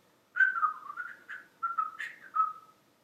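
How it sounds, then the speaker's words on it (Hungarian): A person whistles a short, wavering tune of several sliding notes with brief gaps between them, clear and close, with no talk over it. "Ezt nem tudom, miért fütyültem most."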